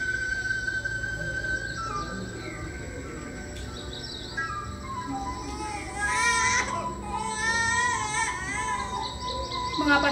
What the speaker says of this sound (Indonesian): Mengapa ada suara tangisan bayi di sini?